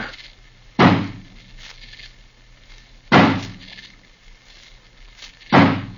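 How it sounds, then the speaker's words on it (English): An axe smashing open a barred, locked door in a radio drama, three heavy splintering blows spaced a couple of seconds apart, loud and close with quiet between them. "smash the door open for us"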